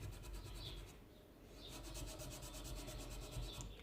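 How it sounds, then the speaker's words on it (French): Hand-sanding scratches out of a knife blade makes soft, rhythmic back-and-forth rasping strokes, quiet and close, with no one speaking. "là, ça va être 20 minutes de ponçage"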